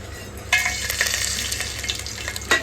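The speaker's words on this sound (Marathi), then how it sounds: "यात टाकून व्यवस्थित फ्राय करून घ्यायचं आहे" Whole spices (bay leaves, cloves, a piece of cinnamon, cardamom and black peppercorns) frying in hot oil, a bright crackling sizzle that jumps up as they drop in and keeps spitting, with a second burst near the end.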